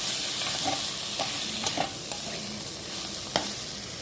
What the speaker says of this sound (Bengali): হলুদ দেবো, দিয়ে ভালো করে এটাকে সেরে নাড়বো। একটু কষে নিলাম।